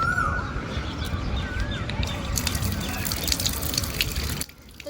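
Running water rinsing mangoes clean, a steady gushing splash with faint dripping throughout that cuts off abruptly near the end.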